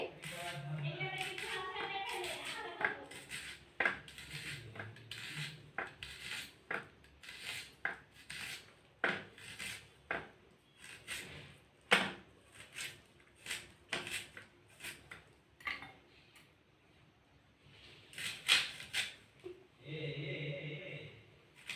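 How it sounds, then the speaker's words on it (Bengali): Onions finely chopped against a bonti blade, a long run of crisp, irregular cutting strokes close by, with someone talking at the start and again near the end. "বন্ধুরা, এইভাবে কুচি কুচি করে পেঁয়াজগুলো কেটে নেবে।"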